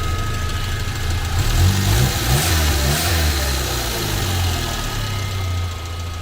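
A Renault Super 5 with a swapped Cléon engine revs up from idle, rising and falling through a couple of throttle blips before settling back to a steady close-up idle.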